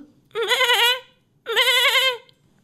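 Goats tied to a peepal tree give two loud, wavering bleats close by, separated by a short pause.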